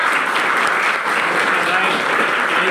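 A room of children claps loudly for their class teachers, producing a dense, even burst of applause that holds steady for nearly three seconds.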